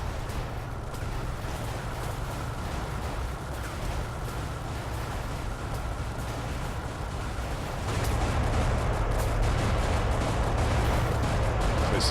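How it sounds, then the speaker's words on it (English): Bombing explosions and artillery-style blasts from the naval strategy game iBomber Defense Pacific rumble as a dense, continuous barrage of booms and crackling bursts. The barrage grows louder and heavier partway through. "Alright, now we can start bombing these guys"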